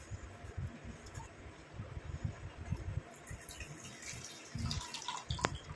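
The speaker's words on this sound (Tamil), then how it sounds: "அடுத்து இந்த டிகாஷனை நம்ம வடிகட்டி எடுத்துக்கலாம்." Boiled herbal hair decoction is strained, pouring liquid trickling and dripping steadily close by for several seconds, with a brief sharper splash near the end and no talking.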